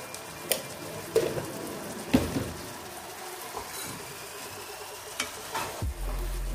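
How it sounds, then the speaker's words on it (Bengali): Spiced dal mixture with cumin and chilli powder being sautéed over a medium flame in a pan, with soft sizzling and intermittent scraping stirs, a few sharper knocks of the spoon against the pan, close and moderately quiet. "আর এটাকে আমি এখন এইভাবে ভালোভাবে কষিয়ে নেব।"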